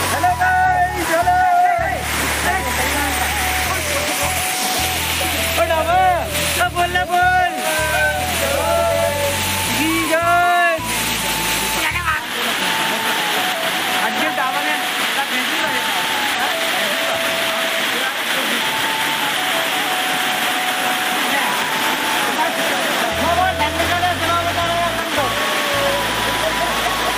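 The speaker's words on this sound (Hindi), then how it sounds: "आज जा रहे हम बीरा के झरने पर घूमने।" Continuous rushing water from the Veera waterfall, a dense steady roar that runs through the whole stretch, with people talking loudly over it for the first half and the water alone afterward.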